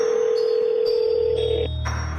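A telephone call is dialled in a cartoon story, with a steady electronic tone followed by stepped beeps and a low hum, loud and close.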